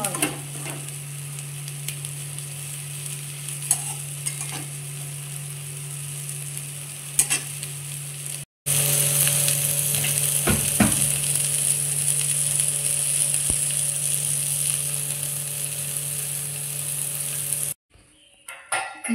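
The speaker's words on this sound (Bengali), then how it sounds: "আরো ভালোভাবে ভাজা হবে, লাল হয়ে তখন ছাড়বো।" Neem leaves and eggplant fry in a pan with a loud, steady sizzle that briefly cuts out, resumes just as strongly, then drops off near the end.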